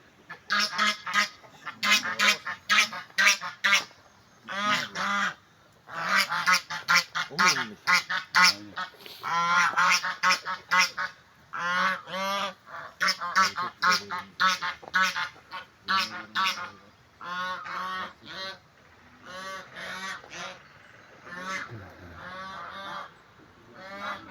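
Geese and ducks in a house garden in Korgan, Ordu honk and quack loudly and almost nonstop in rapid, overlapping bursts.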